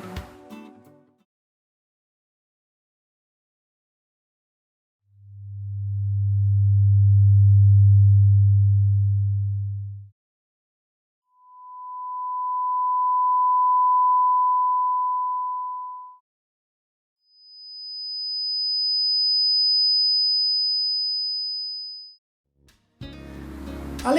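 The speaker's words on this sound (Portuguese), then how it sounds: "Ouçam os exemplos de algumas frequências que eu separei." Three pure sine tones played one after another as frequency examples, each lasting about five seconds with short silences between: first a deep low hum, then a mid-pitched tone, then a high whistle-like tone.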